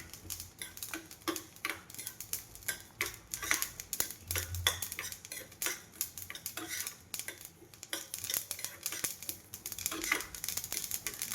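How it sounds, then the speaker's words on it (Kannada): Niger seeds dry-roasting in a pan over a low flame, giving a steady stream of small crackles and pops with occasional scrapes of a spoon, close and moderately loud, no voices. "ಒಂದು ಬಟ್ಲು ಗುರೆಳ್ಳನ್ನು ಚಟಪಟ ಅನ್ನೋವರೆಗೆ ಹುರಿಯೋಣ"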